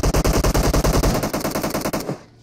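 Rapid automatic gunfire from a weapon in the battle royale game PUBG, a loud, steady burst of closely spaced shots lasting about two seconds before cutting off into a short fading tail.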